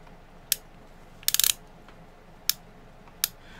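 The cylinder of a Ruger Wrangler .22 revolver clicks as it is turned by hand: sharp, close metallic clicks, with a single one, a quick burst of several, then two more single ones spaced apart, in quiet.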